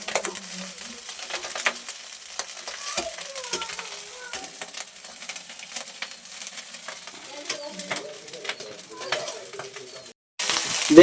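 Salted eggs sizzle in a pan with a colourful vegetable mixture as they are stirred, giving a light crackle broken by frequent scraping and tapping from a utensil, with a louder rustle at the very end.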